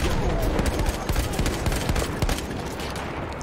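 Rapid gunfire from a Battlefield 1 firefight crackles in dense, loud bursts of overlapping shots that keep going for the whole stretch, with no voice over it.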